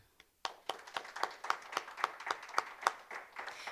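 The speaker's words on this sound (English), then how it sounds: "So let's give Susan a round of applause." A small audience at a community college entrepreneurship press conference gives a round of applause: a short run of fairly close, evenly spaced claps that sound like only a few pairs of hands.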